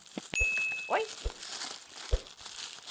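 Dior gift packaging crinkles and rustles as it is unwrapped, close and fairly loud, with sharp crackling bursts and a brief tearing sound among steady paper and plastic handling, under occasional speech.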